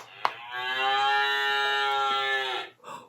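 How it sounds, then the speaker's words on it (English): A cow gives one long, steady, close moo lasting over two seconds, preceded by a small click and followed by a faint brief tail, with no speech. "Let's pat the cow to hear her moo."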